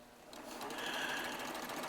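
A Baby Lock serger stitches quilt strips for side seams. It runs at speed with a steady, close, whirring mechanical hum that builds slightly and continues alone.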